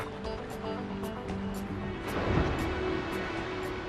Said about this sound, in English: Heavy surf stirs up food.